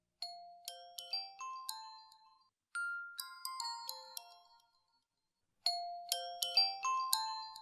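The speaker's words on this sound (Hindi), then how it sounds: "ये तो मेरी फोन की बेल है।" A mobile phone rings with a bright chiming melody of cascading tones, playing in three separate bursts with short silent gaps between them, clear and alone without any talking.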